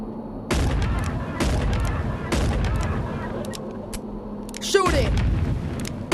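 Gunfire in Animal Company VR, with several heavy shots spaced about a second apart and a sharper burst near the end, all under excited player shouting.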